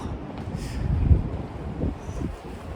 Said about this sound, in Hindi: बहुत तेज़ हवा चल रही है। हवा की आवाज़ आ रही होगी आप लोगों को।